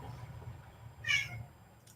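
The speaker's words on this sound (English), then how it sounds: "What up, Big Cat? Talk to me." A cat gives a single short meow partway through, quiet and fairly close, over a low steady background murmur with no talking.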